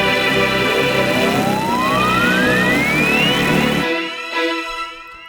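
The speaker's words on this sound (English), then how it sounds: "In our transition here, I have a dirty synth that plays the bass notes." A dirty synth from the Avenger plugin plays bass notes under a dense, loud pop transition, with a rising sweep gliding upward across the mix before it cuts off abruptly into a short tail.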